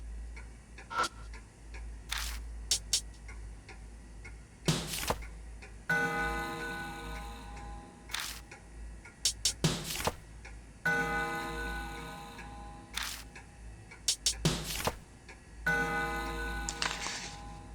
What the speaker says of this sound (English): the clock makes a noise